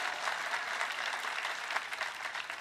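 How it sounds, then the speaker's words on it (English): An audience at a Nerd HQ 2013 conversation with Tom Hiddleston claps steadily, a continuous dense patter of many hands that stays even throughout. "You want to clap?"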